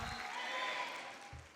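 A church congregation at a Sunday service claps in a brief, steady wash of applause, fairly soft and even, heard from a distance with no voices over it.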